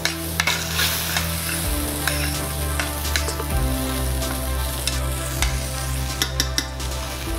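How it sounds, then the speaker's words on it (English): Pre-cooked rice fries with vegetables in a pan, giving a close, steady sizzle broken by scraping stirs and a few clinks, with a low hum shifting underneath and no talk. "we're just going to throw our pre-cooked rice into the pan, just to kind of give it a jump start of reheating"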